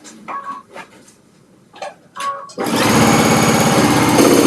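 Sewing machine stitching fabric for a fall candle ring, starting after a few brief clicks and rattles and then running fast and loud in a steady buzzing whir until the end.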